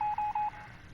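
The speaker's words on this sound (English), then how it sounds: "Okay, if you know Morse code, someone crack it." Morse code beeps from a radio in the video game 60 Seconds! Reatomized: a few quick, clear tone pulses in a half-second burst, then a faint hiss.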